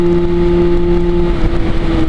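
Derbi Senda 50cc motorcycle engine held wide open at full throttle, a steady loud buzzing drone with a constant pitch plus wind rush, close by and without talk.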